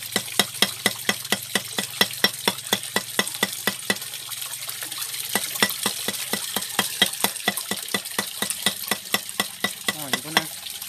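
Bamboo rat intestines being minced with a knife for a Tây Bắc-style blood pudding (tiết canh) filling: a fast, steady run of sharp chopping strikes, close and loud, with no talking.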